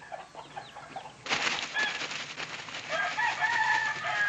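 Game roosters crowing and clucking close by: a quieter stretch of scattered bird sounds, then a louder burst of crowing from about a second and a half in that carries on to the end.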